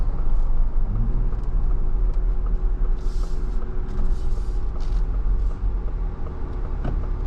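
A 2024 Ford Bronco Raptor's engine is heard from inside the cabin while driving, a steady, deep rumble with continuous road noise and no talking.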